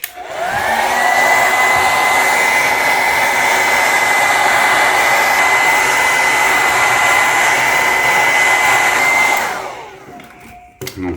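A hair dryer blows steadily to heat the screen edges of an iPhone 14 during a screen replacement. The airflow roars close and loud for about nine seconds, with a faint whine over it, then switches off abruptly.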